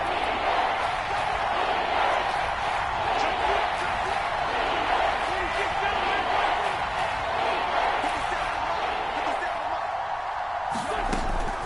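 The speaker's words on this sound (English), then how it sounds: "The crowd getting into it as we come up on a big 3rd down." A stadium crowd at an NFL football game against the Colts roars in a steady, dense wash of cheering and noise that carries throughout, with commentary voices blended in.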